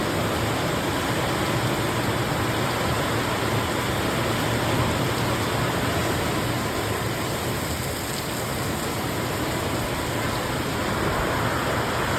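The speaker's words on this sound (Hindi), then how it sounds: "कौन से टाइम की बरसात हो रही है" Steady, dense rain falls without pause, a loud continuous hiss of drops on surfaces filling the whole stretch with no voices.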